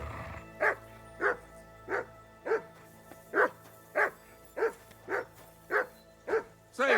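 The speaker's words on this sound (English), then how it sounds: "whistle at that mutt of yours to stop barking" A dog in the medieval game Kingdom Come: Deliverance II barks over and over in a steady rhythm, about a dozen sharp barks at moderate distance against a quiet background.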